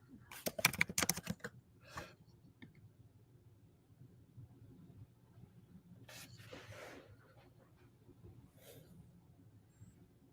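A burst of quick, close keystrokes on a computer keyboard, followed by a few sparse clicks and scattered taps over quiet room noise and faint voices.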